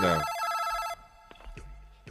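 Electronic phone ring for an incoming call on a French late-night radio show, a short bright melodic trill lasting under a second, then faint studio noise.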